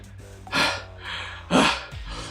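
Two sharp, breathy gasps for air from a video game character, spaced about a second apart, close and fairly loud with a quieter breath between them and no talking.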